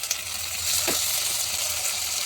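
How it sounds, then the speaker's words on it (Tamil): Whole spices, sliced onion, green chillies and curry leaves sautéing in hot oil for a goat blood and lung gravy, a steady close sizzle with a brief stir scrape near the middle, no voices. "கிராம்பு, பட்டை, சோம்பு, லவங்கம், வெங்காயம் போட்டு, பச்சை மிளகா, கருவேப்பிலை நல்லா வதங்கிட்டு தக்காளி போட்டுக்கலாம்."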